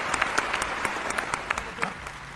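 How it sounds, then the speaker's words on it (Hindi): Audience applause at a Hindi-language motivational talk, a steady wash of many hands clapping with sharp individual claps poking through, fairly loud and continuous with no one speaking over it. "अगर महसूस हो जाए कि मैंने कुछ अच्छी बात कह दी है तो आपकी तालियां मिले।"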